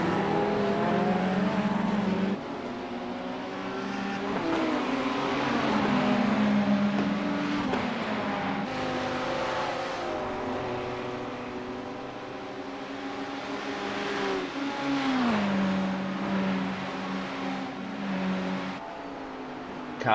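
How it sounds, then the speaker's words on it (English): GT3 race cars accelerating down the straight at Bathurst, a loud sustained engine roar with rising and falling gear pitches as several cars pass, no commentary over it. "Cars getting up to about 270 kilometers an hour down this straight here"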